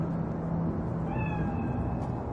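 A cat meows in the Cyberpunk 2077 video game, a drawn-out tonal cry rising and falling near the middle over a steady dense ambient background, with no talking.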